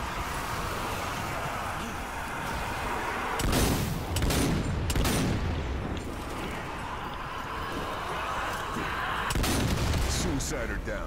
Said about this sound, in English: I'm gonna start throwing grenades.